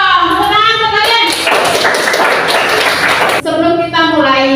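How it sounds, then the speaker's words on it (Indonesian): Schoolchildren in a classroom applaud, a loud burst of dense clapping in the middle framed by a teacher talking before and after. "Tepuk tangan untuk kalian."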